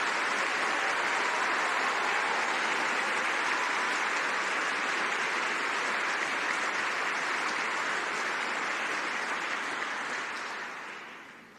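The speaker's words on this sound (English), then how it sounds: "give yourself today's first big round of applause" Sustained applause from a large graduation congregation audience, dense and steady clapping filling the hall for about ten seconds before tapering off at the end.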